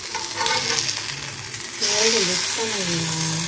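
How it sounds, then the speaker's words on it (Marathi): Bombay duck fish frying on a tawa, a steady close hiss and sizzle of hot oil that swells louder partway through, with voices talking over it. "आणि आपले बोंबील इकडे मस्त फ्राय होत आहेत"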